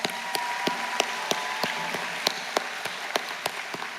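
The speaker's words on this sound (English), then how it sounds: "Let's give them a round of applause." An audience at the Talladega College 149th commencement applauds the class of 2024. Sustained clapping fills the hall, with sharp individual claps standing out above a steady wash.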